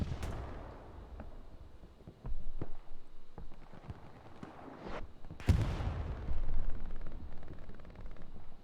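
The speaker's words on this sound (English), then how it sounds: "Raven goes down as more rockets, still Panzerschrecks landing on the artillery here for 82 AD" Panzerschreck rockets slam into artillery positions in a Utah battle map of a multiplayer war game, producing several sharp booming explosions with rumbling tails, including one heavy close blast near the end.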